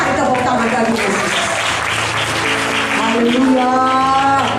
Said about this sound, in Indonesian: Mari tepuk tangan bagi Yesus.